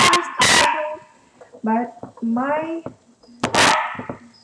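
Small dogs barking in a home kitchen, a few sharp yips and barks in quick bursts, close and loud, with a person speaking briefly between them.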